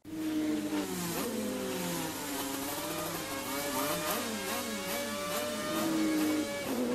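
Formula 3000 racing cars rev their engines, with continuous, fairly loud engine tones climbing and dipping in pitch as the throttle opens and eases, with no talking over them.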